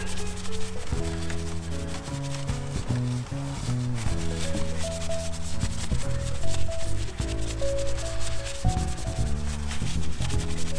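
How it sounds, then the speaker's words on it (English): Stiff, dense-bristled detail brush scrubbing hard inside a very dirty car interior, giving continuous close rasping strokes over a steady backing of music. "And see how thick that brush is and dense those bristles are? Now that is scrubbing power."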